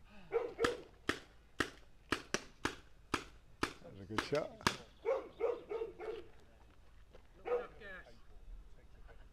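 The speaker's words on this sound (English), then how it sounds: "dog barking in the background." A dog barks repeatedly from a television in the background, a quick series of sharp yaps heard under nearby talk.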